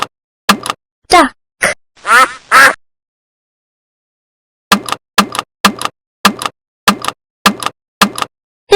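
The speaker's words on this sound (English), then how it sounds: "duck," A duck quacks in a few uneven, raspy bursts, then a long steady run of short, evenly spaced quacks follows after a brief silence.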